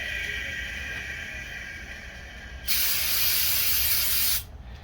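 Brake cleaner sprayed as starting fluid into a small Homelite engine: a steady, loud aerosol hiss lasting almost two seconds, standing out against a quieter background hum.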